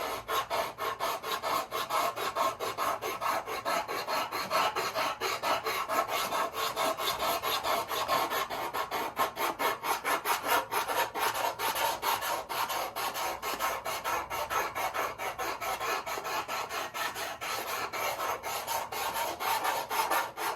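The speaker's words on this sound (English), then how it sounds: "I don't want to round it off with my hand, so I'll use a sanding bar." A sanding bar drawn back and forth along the edge of a balsa wood model airplane fuselage on a Carl Goldberg Tiger 2 build, giving a continuous close rasping scrub that repeats in quick strokes without a pause.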